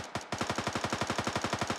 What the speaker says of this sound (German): Ich höre von da Schüsse, ist klar.